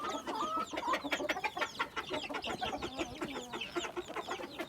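Chickens and chicks cluck continuously nearby, a busy overlapping chorus of short clucks with a few higher chick chirps mixed in.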